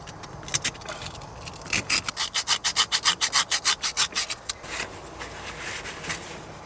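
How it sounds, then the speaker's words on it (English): Sandpaper rubs by hand over an old fishing boat under restoration: a quick run of about fifteen rhythmic back-and-forth strokes, close and fairly loud, between quieter scraping at the start and end. "Gonna need some sandpaper for this."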